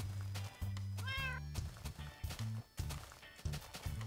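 A Minecraft cat gives a single clear, rising-and-falling meow early on, heard over a steady, rhythmic low background hum of game music.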